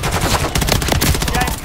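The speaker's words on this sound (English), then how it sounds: "I'm taking fire from the bridge" Sustained automatic gunfire in Call of Duty MW3 during a dam mission, dense rapid bursts close and loud, with short punchy shots stacked over a constant roar of battle and faint voice chatter.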